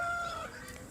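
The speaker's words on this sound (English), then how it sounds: "What you might be hearing behind me are guinea birds. There are geese, there are guinea birds" Guinea fowl and geese calling near water, a loud raucous fowl cry with a held, tonal note that breaks off midway, close over a steady outdoor background.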